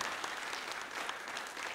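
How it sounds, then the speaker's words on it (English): Another short round of dense clapping from the audience at a PERL Nigeria gathering, steady and fairly loud throughout, with no voices over it. "Another round of applause."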